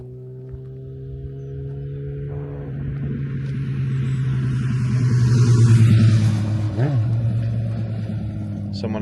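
A Lamborghini Gallardo Superleggera engine drones steadily while driving, its note rising and swelling to a peak midway and then easing off, with someone talking over it.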